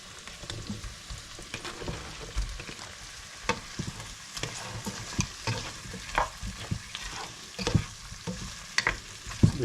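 Chunks of meat frying with onions in a hot pan, a steady crackling sizzle with irregular sharper pops and stirring clatter throughout, close and moderately loud, no talking.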